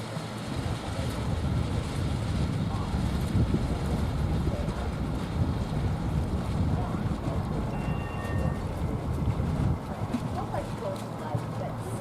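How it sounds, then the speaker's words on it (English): Light wind gusts across a microphone at a marina during a radio-controlled IOM model sailboat race. A steady broadband rush runs throughout, with faint background sounds mixed in. "Lighter wind here Sunday morning"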